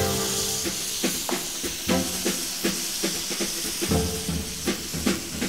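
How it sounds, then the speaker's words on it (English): Marinated bulgogi sizzles steadily in a hot, oiled frying pan, with repeated scraping and clacking strokes as it is stir-fried, close and fairly loud. "Now, oil a heated frying pan and stir fry the marinated bulgogi."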